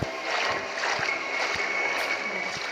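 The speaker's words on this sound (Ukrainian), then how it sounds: "А чого тут вода лється?" Water pouring inside a video game set in a shopping mall at night, a steady broadband wash with light splashy texture running continuously through the clip at moderate level.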